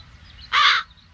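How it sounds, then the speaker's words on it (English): A single crow caws once in the video game The Dark Eye: Chains of Satinav, a loud, harsh call lasting about a third of a second over a quiet background. "You'd better start catching those crows."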